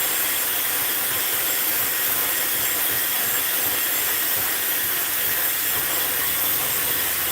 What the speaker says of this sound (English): Blow drying.